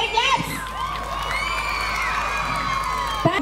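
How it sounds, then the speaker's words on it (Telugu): A school annual day audience claps, cheers and whoops, with children shouting. The crowd noise is loud and continuous throughout, with a burst near the start and another at the end. "గట్టిగా ఒకసారి క్లాప్స్"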